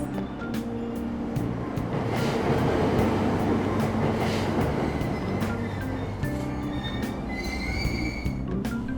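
A subway train in the video game Persona 5 Royal pulls away from a Tokyo station, a loud steady rumble of wheels with squealing rail tones and clanks running throughout.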